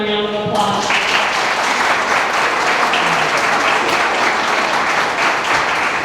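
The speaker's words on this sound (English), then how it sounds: "Can we just give them a round of applause?" A big round of applause for a farm-business panel at a farm expo, bursting in after a brief tonal note and sustaining as loud, dense clapping from a large crowd, with a bit of cheering mixed in.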